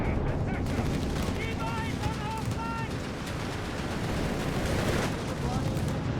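Battle in Company of Heroes 3 with Stuka dive bombers making strafing runs amid continuous gunfire and explosions; a dense, steady roar with brief wailing tones early on, and a voice talking over it.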